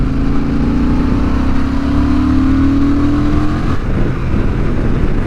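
A Honda Transalp XL750 adventure motorcycle accelerates hard at full throttle in fourth gear in sport mode, a loud steady engine drone with a rising tone that runs continuously before easing off near the end.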